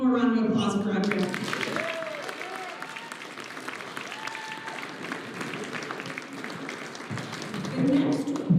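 An awards-ceremony audience breaks into steady applause for sports record holders, broad clapping from many people, with voices heard at the start and end.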